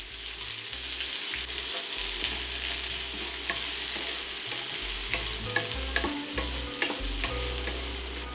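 Onions frying in hot oil with toasted whole garam masala spices for a brown rice and chickpea pilau, a steady close sizzle with stirring scrapes and clinks throughout.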